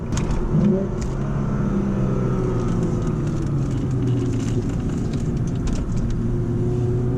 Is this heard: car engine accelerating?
yes